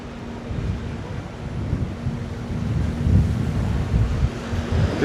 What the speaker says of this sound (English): A bit windy this morning as well.